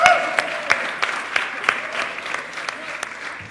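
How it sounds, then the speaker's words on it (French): An audience at a meeting about the Tobie Lolness series project gives warm applause, a fairly light crowd of claps with a few sharper hands standing out, fading gradually over a few seconds. "On applaudit."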